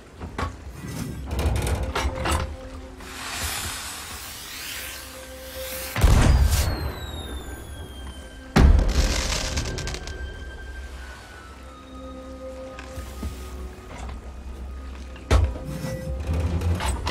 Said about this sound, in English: Next will be the Distant Shores firework.